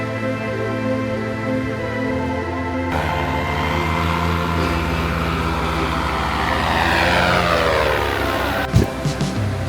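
A motor paraglider's engine drones overhead near a coastal island, a loud, sustained buzzing hum that holds steady and then swells slightly, with no talking.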